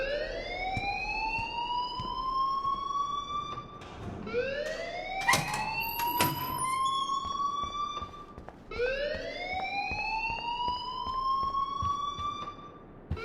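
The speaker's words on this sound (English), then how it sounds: "please turn off that alarm since that's your job" An alarm wails in the Life is Strange video game, three long rising electronic sweeps repeating every few seconds, loud and clear with faint clicks between them.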